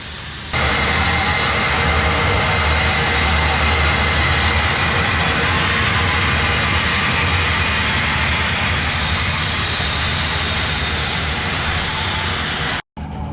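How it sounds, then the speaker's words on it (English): A turbocharger spun hard on a homemade turbo burn barrel, its hot oil return line smoking into an oil drum, gives a loud, continuous roaring whine that holds steady before cutting off abruptly near the end. "That turbo's just getting tore up."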